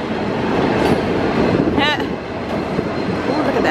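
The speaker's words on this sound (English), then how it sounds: "Got a train going by here, and there's also a train track too" A train passes along a railroad track near the East Coast line in Florida, giving a steady, loud broadband rumble throughout with a brief squeal partway through.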